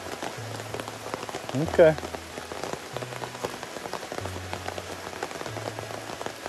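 Steady patter of rain on a hard surface at a campsite in the Adirondacks fills the background, with a short spoken word and a brief louder tap partway through.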